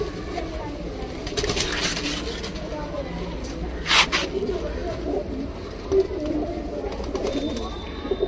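Flying pigeons coo softly in the background beneath someone talking nearby, with occasional flutters and rustles.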